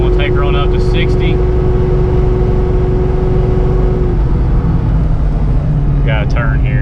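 A car with a TH400 automatic transmission and no overdrive cruises at 55 mph at about 2,700 RPM, giving a loud, steady engine and road drone with brief faint chirps.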